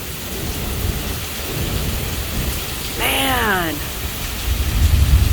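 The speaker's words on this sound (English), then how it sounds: "It's raining right onto my feet now." Heavy rain pours steadily during a severe thunderstorm, a dense close hiss with a low rumble building toward the end, while someone speaks briefly and a descending squeal cuts through the middle.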